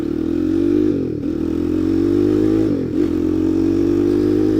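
ZS-190-swapped Honda Grom clone motorcycle accelerating on a road, a loud close buzzing engine that drops briefly twice at gear shifts before pulling again, with no talking.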